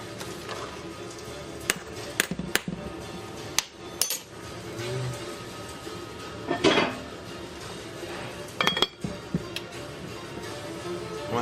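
A metal lid set onto a cooking pot of simmering brew, sharp clanks and scrapes of metal on metal scattered among quieter knocks and rattles, close by with no talk.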